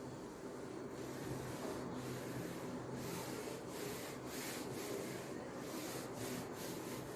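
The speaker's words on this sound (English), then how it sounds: "I am rubbing this part." Writing being rubbed off a board during a maths lesson, a faint, continuous rhythmic scrubbing with repeated back-and-forth strokes and no speech.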